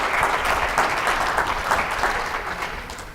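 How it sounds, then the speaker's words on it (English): Conference audience applauding a panel, dense steady clapping from a crowd, loud and sustained, fading slightly at the end. "Let's give them all a round of applause."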